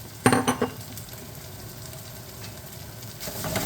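Chopped green pepper hits a hot pan for chicken paprikash with a loud burst of sizzling and a few clattering stirs, then settles into a steady, fainter fry that swells again at the end.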